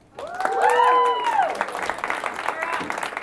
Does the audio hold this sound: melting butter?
no